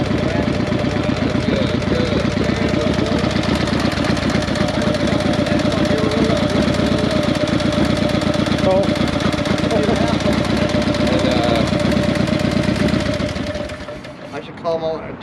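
A car engine runs with a close, steady, rumbling drone while the driver works the clutch and shifts gears. Voices talk over it, and the engine eases off near the end.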